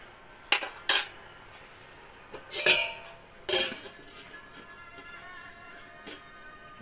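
A metal pot lid set down on a cooking pot of jackfruit, several sharp clinks and clatters of metal on metal close by, spaced out over a few seconds with quiet between.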